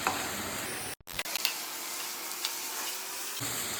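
Onions sizzle steadily in hot oil in a pan for a drumstick-leaf fry, with soft stirring scrapes; a brief break comes early, then the frying carries on without any voices.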